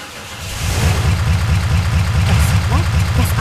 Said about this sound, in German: Das Auto springt tatsächlich noch an.